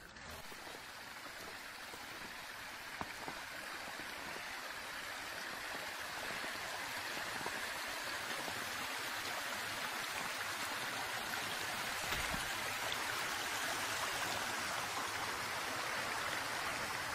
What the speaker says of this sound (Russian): Вроде маленький ручеек, а воды столько текет, что ой-ой-ой.